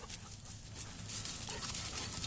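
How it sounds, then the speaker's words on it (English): A pit bull whimpers softly and pants during off-leash recall training outdoors, fairly faint under steady background noise. "this is a good little dog, Neal"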